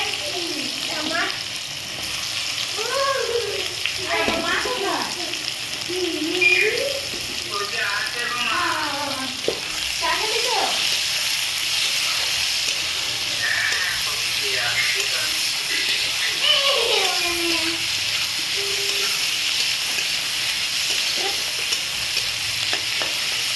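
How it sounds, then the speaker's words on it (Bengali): Onions sizzle and hiss steadily in hot ghee while being stirred, a close, continuous frying crackle with a person talking over it. "ঘি গরম হয়ে গেছে, দিয়ে দেবো পেঁয়াজ।"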